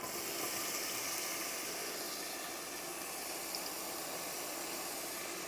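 Onions and celery sizzle steadily in shimmering hot olive oil in a stew pot, a continuous close, even hiss with no break or talking.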